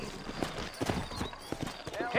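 Horse hooves clip-clopping on a town street in Red Dead Redemption, a fairly quiet and uneven run of hoofbeats with a brief whinny, under a voice talking.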